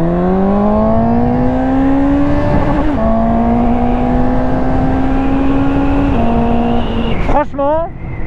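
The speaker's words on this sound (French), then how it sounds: "Elle aime le bruit du 4 cylindres" A loud four-cylinder Suzuki GSX-S 750 A2 motorcycle engine revs steadily upward with a smooth, rising whine, shifting pitch twice, then a quick sharp squeal at the end.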